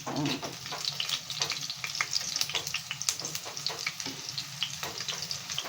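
Century tuna patties coated in flour and egg fry in a pan with a continuous crackling sizzle, dotted with sharp pops and spits throughout, close and moderately loud with no talking.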